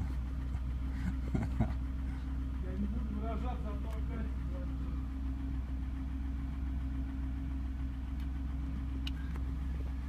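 A Kia Sorento 3.5-litre engine idles steadily with a low, constant hum, with fault code P1330 present, while faint voices murmur briefly in the background.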